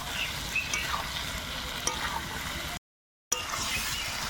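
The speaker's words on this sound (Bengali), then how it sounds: "এবার ভাজা পনির, আলু আর পটল একসঙ্গে দিয়ে দেবো" Fried paneer, potato and pointed gourd sizzle together in a pan with stirring for a patol paneer curry, a steady close crackle broken by occasional scrapes and a brief gap of silence, with no talking.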